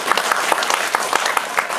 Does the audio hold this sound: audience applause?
yes